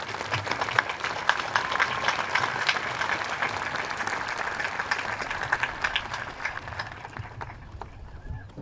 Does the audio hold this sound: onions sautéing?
no